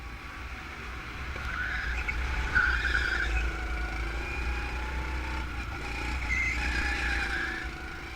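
A race car at Pittsburgh International Race Complex skids off the track into the grass, tires squealing and scrubbing in a drawn-out wail over a low engine rumble, heard at moderate distance.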